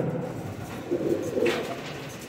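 Pigeons cooing nearby, a few soft low throaty coos rising over a quiet background across two seconds, no talking.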